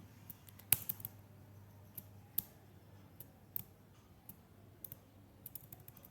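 Keys click on a computer keyboard as a router command is typed, a sparse run of sharp, quiet taps scattered over several seconds, with a few louder presses standing out.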